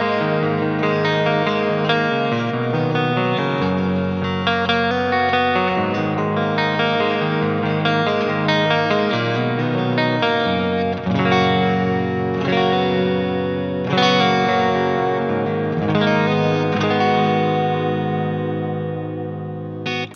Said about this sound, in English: the neck pickup in parallel humbucking mode sounds like this.